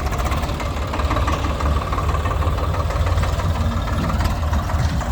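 A tractor's diesel engine runs steadily out in the fields, a loud continuous low throb with a faint knocking rhythm and no speech.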